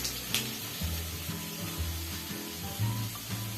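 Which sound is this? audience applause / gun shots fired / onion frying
onion frying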